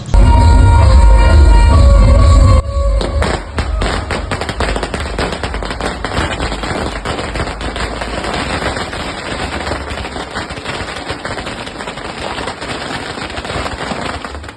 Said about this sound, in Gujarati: ફટાકડા ફૂટી ગયા